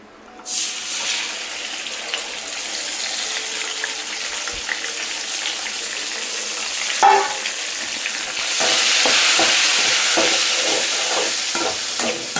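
Ground mint paste sizzles and crackles in a hot pan as it is sautéed and stirred for pudhina rice, a loud, steady frying hiss with scraping spoon strokes that swells louder partway through.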